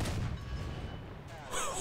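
Tiger II 105 tank cannon firing in War Thunder, a single heavy boom with a rumbling low-end decay under a voice, lasting under two seconds.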